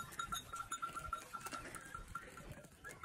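A herd of goats arriving home after being rounded up by a drone: a steady, bright jingle of bells over a busy rustle of animal movement, with faint calls mixed in.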